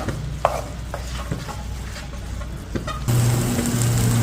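A spoon turns pepper chicken with pepper powder and curry leaves in a pan, making soft scraping strokes and a light sizzle, before a louder, steadier hum takes over near the end.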